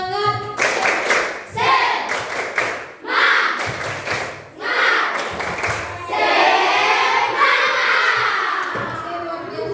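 A group in a hot indoor training session performs the tepuk semangat clapping chant, with sharp rhythmic bursts of claps separated by short pauses and shouted voices, then a longer stretch of clapping and cheering.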